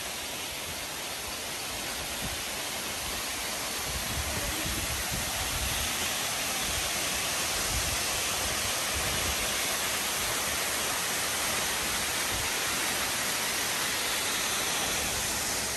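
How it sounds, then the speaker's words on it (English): Rincon Falls roars as a steady, broadband rush of falling water, loud and close, filling the whole stretch without a break. "This is what we call a waterfall"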